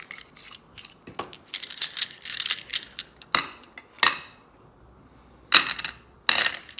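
Several dice are shaken and rolled onto a table, with rapid clattering that gives way to a few sharp separate clicks and knocks as they settle, close and clear.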